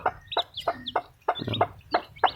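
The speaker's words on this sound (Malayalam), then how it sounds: "നമുക്കിനി തള്ളക്കോഴി ഒന്ന് എടുത്തു നോക്കട്ടോ" A mother hen clucks in quick, rhythmic bursts, close and clear, alongside her newly hatched chicks, with short sharp calls repeating about every third of a second.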